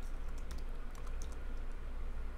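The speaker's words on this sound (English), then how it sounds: "So let's start typing in Brandon Falls." Rapid keystrokes clatter on a computer keyboard in an uneven, steady run, close and clear over a low background hum.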